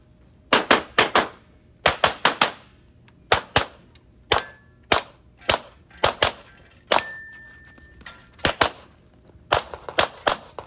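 A borrowed pistol fires at a shooting match stage: about twenty sharp, close, loud cracks come in quick pairs and short strings, separated by brief pauses, with no voices.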